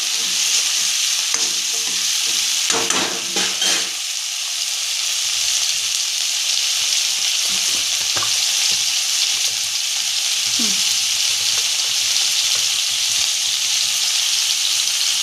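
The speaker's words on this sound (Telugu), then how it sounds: "టమాటా వేసి కొంచెం ఫ్రై చేసుకుందాం" Tomatoes frying in a pan while making egg fried rice, a steady loud sizzle with a few scraping stirs near the start, going on alone with no talk.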